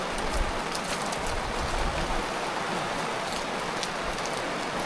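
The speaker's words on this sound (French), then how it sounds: "It is raining today." Steady rain falls during a hike in the Alps on the Tour du Mont Blanc, a dense, even hiss of drops close around with no voices.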